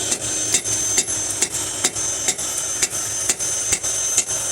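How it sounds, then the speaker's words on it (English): A hammer strikes steel while forging and thinning a meat cleaver, at a steady, unhurried pace, each sharp ringing blow repeating about every half second over a constant background hum. "Now we go back in with the hammer and we hit it this way."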